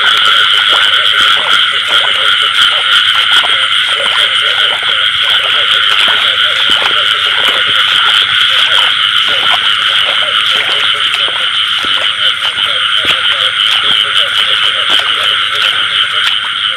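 A dense chorus of male rice-field frogs croaks loudly and continuously at night in the first rain of the season, a close, shrill, pulsing din with rapid overlapping calls throughout.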